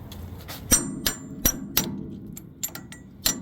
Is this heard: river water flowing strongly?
no